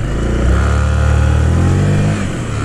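Honda PCX motor scooter with a reworked clutch pulling away, its engine note climbing smoothly and steadily up close for a couple of seconds before easing off.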